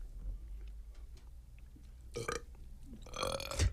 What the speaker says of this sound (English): Mayonnaise burps the worst.